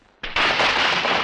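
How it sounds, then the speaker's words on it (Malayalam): A firecracker set off in a comedy film scene: after a short quiet moment, a loud, harsh burst erupts and keeps crackling and hissing without a break to the end. "പടക്കത്തിന് തീ കൊടുക്കാൻ മതി"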